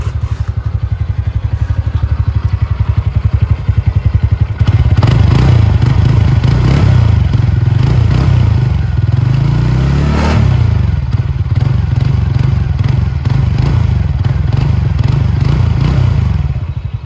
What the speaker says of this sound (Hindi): दोनों की एग्जॉस्ट नोट सुनते हैं